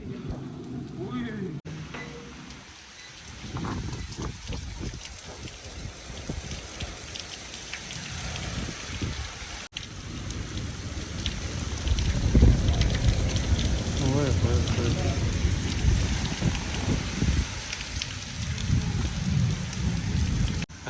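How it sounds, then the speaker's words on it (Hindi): Heavy monsoon-style rain pours steadily onto surfaces and a metal grille, with rumbles of thunder rolling through and people talking faintly beneath the downpour. "कितनी स्पीड से बारिश आ रही है।"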